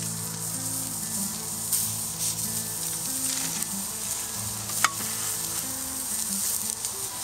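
Burgers fry on a hot griddle at a season-opening backyard grill session, giving off a steady, close hiss of sizzling fat with one sharp click partway through and no talking.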